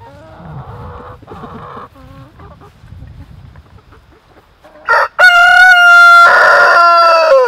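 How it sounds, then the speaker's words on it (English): Roosters and chickens kept in a field on a farm: low clucking and murmuring at first, then a loud, close rooster crow rings out near the end, with another crowing overlapping it. "We got roosters and chickens just in a field."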